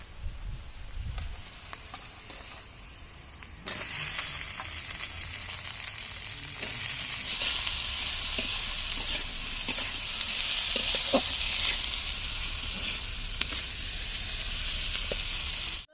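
Chopped eggplant hits a hot pan and starts frying. A steady sizzle jumps louder as the pieces go in, then keeps a dense, crackling hiss with occasional stirring scrapes, close up and without speech.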